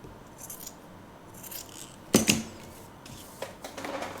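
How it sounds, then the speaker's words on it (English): Scissors trimming satin fabric, a few crisp close snips with one sharp metallic cut standing out in the middle, otherwise quiet with light handling sounds. "I will trim this off"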